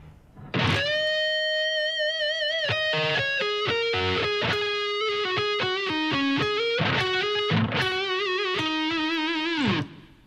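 Electric guitar with distortion plays a solo slowly, a sustained note followed by a run of picked notes and slides, then another held bend-like note, loud and close with no talk.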